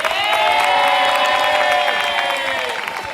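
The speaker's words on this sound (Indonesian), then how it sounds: "Tepuk tangan dong untuk KBK." A studio audience at the Indonesian game show Family 100 applauds and cheers for team KBK, a loud, steady roar of clapping and shouting voices that carries through all three seconds.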